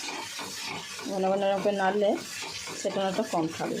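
A spoon stirs frying spice masala, oil separating in a cooking pot, with repeated rasping scrapes and rubs against the pot's base while someone talks over it.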